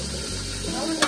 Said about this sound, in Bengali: রোস্টের জন্য চিকেন একটু ভাজা হইতেছে